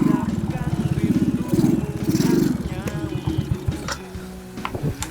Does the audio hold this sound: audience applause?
no